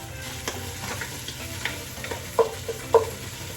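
Onions sauté with ground meat, garlic and ginger in a pan, giving a steady close sizzle broken by scraping stirs and a couple of sharper utensil knocks; no voices.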